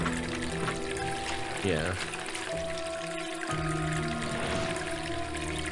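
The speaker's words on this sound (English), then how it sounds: "Maybe I need to put water on it." Water being poured in the Enigmatis game: a brief splashing pour and trickle beneath a speaking voice and background music.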